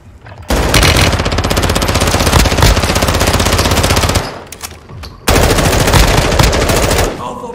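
Rapid automatic gunfire in the video game Call of Duty MW3, loud and close, in two long sustained bursts with a brief pause between them.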